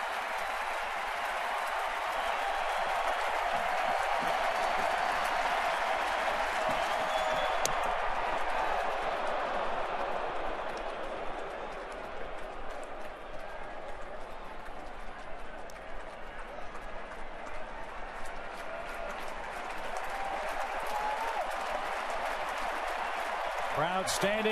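A large stadium crowd at a Yankees postseason baseball game roars and applauds in a sustained, broad wash of cheering that dips slightly midway and then swells again, with a broadcaster's voice over it.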